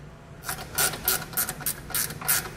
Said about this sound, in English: if you have a swivel with a short socket, sometimes that can also work.